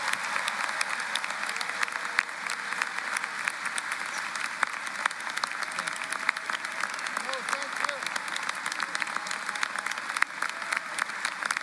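Audience applause honoring a university chancellor, Texas Christian University's chancellor, at a spring commencement ceremony; a steady, dense clapping from a large crowd fills the hall without a break from start to finish.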